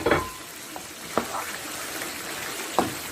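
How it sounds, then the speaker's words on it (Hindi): Potatoes fry in spiced masala and oil in a pot for degi aloo gosht, a low steady sizzle with a few sharp stirring knocks against the pot, close and without talk. "इसको हम 5 से 7 मिनट आलूओं को अच्छी तरह भून लेंगे मसाले में"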